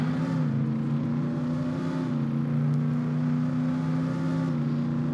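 An ATV engine in the Roblox game Jailbreak drones at a steady, loud, high pitch, holding a constant revving tone with only slight shifts throughout.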